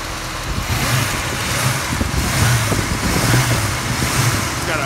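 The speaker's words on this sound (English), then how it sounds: "Engine sounds great." A 1967 Ford Mustang Fastback with an S-code 390 V8 and four-speed idles steadily, a low continuous rumble with a slight rhythmic lope, heard fairly close with some wind noise over it.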